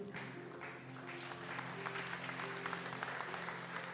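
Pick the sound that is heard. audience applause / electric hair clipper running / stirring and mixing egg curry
audience applause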